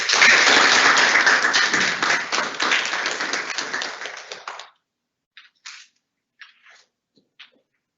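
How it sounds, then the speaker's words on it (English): An audience at a student government meeting applauds award recipients with loud, close, dense clapping for several seconds. It then stops abruptly, leaving a few isolated claps or taps in the quiet. "let's give everyone another round of applause."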